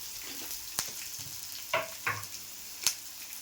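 Green chili, curry leaves and asafoetida dropped into hot oil for tempering, giving a soft steady sizzle with a few sharp crackles and spatters, close up with no voices.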